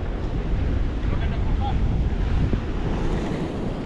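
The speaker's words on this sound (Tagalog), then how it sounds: "Laki ng alon ha." Steady roar of wind and surging ocean water, continuous and fairly loud, with heavy buffeting on the microphone.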